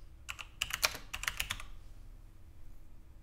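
Quick bursts of typing on a computer keyboard, about a dozen crisp close key clicks in two short runs, then quiet room tone.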